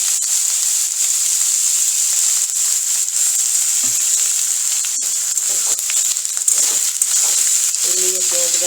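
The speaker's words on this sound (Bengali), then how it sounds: "তেল দিয়ে পেঁয়াজটা ভেজে নেব।" Sliced onions fry in oil for chicken biryani with a steady, even sizzle that holds throughout. Occasional stirring scrapes rise above it, and a faint voice appears briefly near the end.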